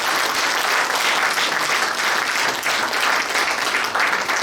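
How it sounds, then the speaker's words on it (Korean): Congregation at a church mission society's general assembly giving loud, sustained applause, many hands clapping in a dense, fluttering wash that holds steady throughout, close and full. "인사하실 때 큰 박수로 격려하겠습니다"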